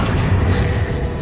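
A Confringo blasting-spell explosion in Hogwarts Legacy on PS5, a short loud low boom that rumbles and fades over about a second.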